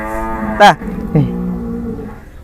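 A cow lets out a loud, close moo followed by a second, shorter lowing call a moment later, over faint background noise.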